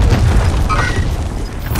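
A deep, rumbling airstrike explosion from the video game Call of Duty: Modern Warfare, a loud sustained boom that rolls on without a break and shows no clear onset.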